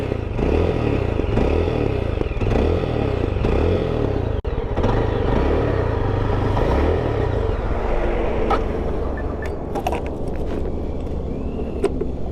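A KRF motorcycle engine runs unevenly, as if starved of petrol, sputtering and surging in a loud, irregular rhythm, with rattling and scraping clatter toward the end.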